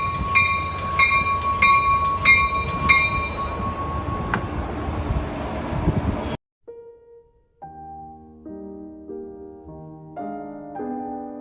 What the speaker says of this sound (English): That there in the distance is our train.